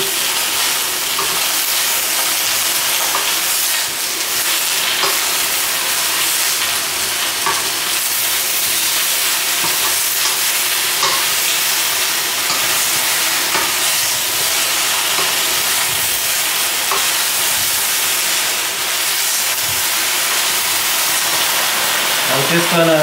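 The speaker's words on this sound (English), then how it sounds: "I'm just gonna keep on stir frying the meat." Oxtail and lamb meat stir-fried with tomatoes in a hot pan for a Cantonese stew, giving a loud, continuous close sizzle and hiss with occasional stirring scrapes throughout.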